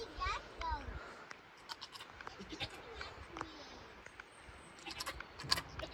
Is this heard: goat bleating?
yes